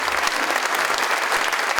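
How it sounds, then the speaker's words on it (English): A brief, full burst of audience applause honours the candidates at a town Selectmen's debate. The clapping is steady and dense for the whole short stretch. "Please, a round of applause for these wonderful candidates."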